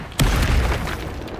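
A Flipendo spell cast in Hogwarts Legacy lands as one loud, deep boom with a burst of impact noise that rumbles and fades over about a second.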